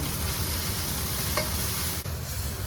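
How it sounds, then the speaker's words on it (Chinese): Scallion, ginger, garlic and small chili peppers stir-fried in a wok of oil, a loud, dense, close sizzle with a spatula scraping and a brief dip near the end, no talking. "然后下入葱姜蒜、小米辣爆香，加入一勺红油、豆瓣酱，给它炒出红油"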